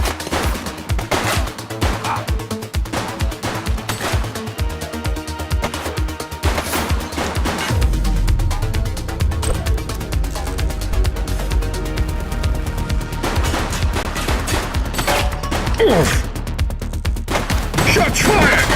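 Rapid gunfire from a police gang raid in The Precinct, dense bursts of shots rattling continuously for many seconds, growing heavier and deeper partway through, loud and close throughout.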